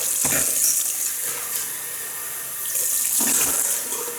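Water from a bathroom tap runs steadily into a sink while a face is rinsed after a wet shave with a Gillette Ball End Tech safety razor and Derby lemon shaving cream, close by, swelling twice as the flow is splashed.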